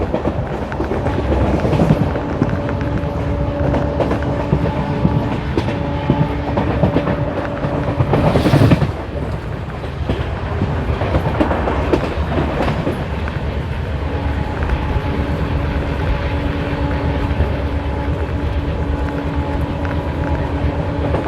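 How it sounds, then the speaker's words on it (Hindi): Onboard the 12482 Shri Ganganagar–Delhi Intercity train as it skips Bareta railway station, a loud continuous rumble of wheels and carriages with rhythmic rail clatter, a brief sharper burst near the middle, and steady tonal hum throughout. "तो अभी अपनी ट्रेन स्किप करने जा रही है बरेटा रेलवे स्टेशन।"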